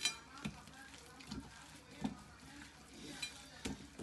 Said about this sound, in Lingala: Nazo balola nyama na ngai.